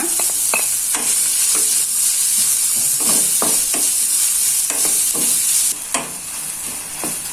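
Chili, lime leaves and lemongrass stir-fry in a hot pan, a steady bright sizzle broken by repeated scraping strokes of a spatula, loud and close, with the hiss easing a little near the end.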